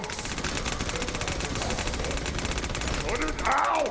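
Gunfire in the Battleborn video game hits an enemy turret: a steady, rapid stream of shots running the whole time, with a brighter swelling effect near the end.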